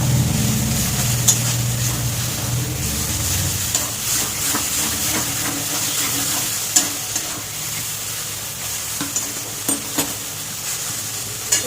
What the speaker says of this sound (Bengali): আমি কচু পাতাটা খুব ভালো করে ভেজে নিয়েছি।